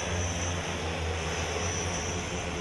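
Steady, droning whir of the Hexa, an electric multirotor passenger aircraft with 18 propellers driven by electric motors, heard as a constant engine-like hum with a high whine, loud and alone.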